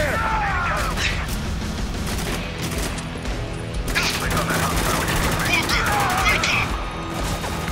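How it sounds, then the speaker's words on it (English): Heavy gunfire in the video game Spec Ops: The Line, with dense overlapping bursts and loud impacts running throughout alongside ambient battle noise; voices talk over the shooting. "Taking some heavy fire here!"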